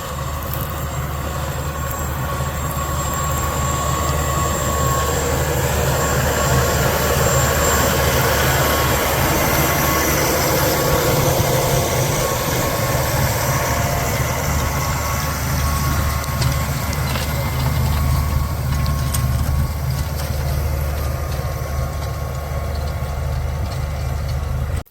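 A tractor pulling a cultivator through a field after rain, its engine giving a loud, steady drone that holds without a break from start to finish, with no talk over it.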